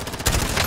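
Rapid gunfire in the video game Resident Evil 3, a dense burst of overlapping shots filling a brief moment with loud, continuous crackling.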